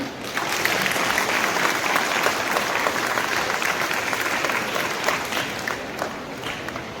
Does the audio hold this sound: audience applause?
yes